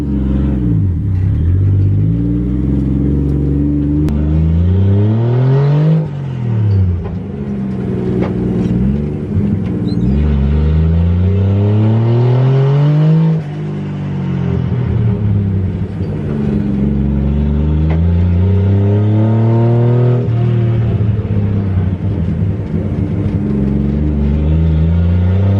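A drift car driven on the road, its engine revving and falling in repeated sweeping pitch climbs with loud continuous rumble, close and alone with no talk.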